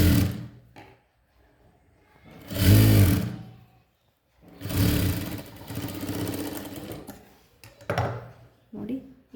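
A sewing machine stitches an umbrella dress made from a saree in short, close runs: a brief burst, a longer steady stretch, then a few quick taps, with quiet pauses between.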